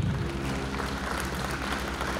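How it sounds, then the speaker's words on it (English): An audience at a ribbon-cutting ceremony for Las Cruces International Airport gives a steady round of applause, moderately distant, over a low electrical hum. "Give a round of applause to them."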